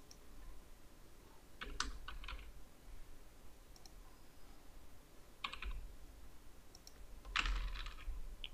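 Someone types on a computer keyboard while filling in an online form, with short bursts of quick, light key clicks separated by quiet gaps and no talking.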